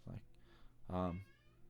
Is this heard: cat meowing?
yes